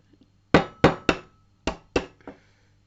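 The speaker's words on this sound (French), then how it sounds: "On commence tout de suite par casser le jaune d'œuf" An egg is cracked for a homemade hair treatment: six sharp, close knocks of shell against a hard edge, spaced in quick uneven groups over a quiet room.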